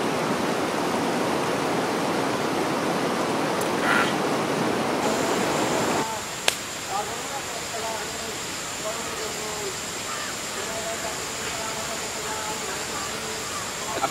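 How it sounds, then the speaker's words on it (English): Spring water flows through a forest in a continuous rushing wash, loud and dense at first, then dropping to a softer, steady burble that carries on to the end. "And after this bank, there is a spring flowing around."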